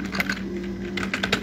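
Computer keyboard typing of a Linux command in a Kali terminal, a few quick close keystrokes in short bursts over a steady low hum.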